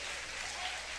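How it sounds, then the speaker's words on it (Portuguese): Brief burst of church congregation applause during a sermon, a steady, dense wash of clapping heard at a distance and fairly faint. "Tem alguém que pode aplaudir o Senhor dando glória ao nome dele?"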